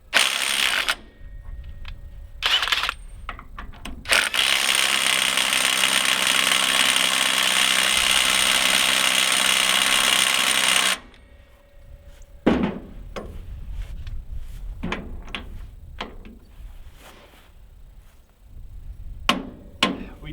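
A Ryobi P262 One+ HP 18-volt 1/2-inch impact wrench with a 1.25-inch socket works on a heavily torqued bolt. Short loud hammering bursts lead into one long sustained rattling run, followed by quieter scattered clicks and clanks.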